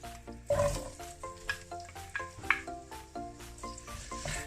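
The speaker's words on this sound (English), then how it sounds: "we're going to add the ginger, the garlic, the chilies, and the green onion" Ginger, garlic, chilies and green onion sizzling in a pan for spicy tofu, a close, steady frying crackle with repeated stirring scrapes and clinks over it.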